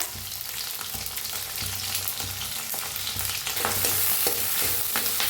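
Onion cut lengthwise and curry leaves fry in a pan with dried red chili for sambar, giving a steady, close sizzle with occasional stirring scrapes and clicks throughout, no voices.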